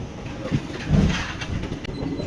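A passenger train runs along a double railway track on the Lingampalli–Palakollu route, a steady rumble with rhythmic clatter of wheels heard from on board, without talk.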